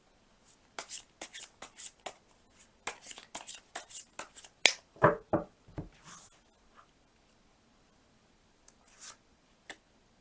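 Tarot cards being shuffled and handled during a money-fortune reading: a run of crisp, papery riffles and slaps in close succession, then a few scattered taps and rustles trailing off into near silence.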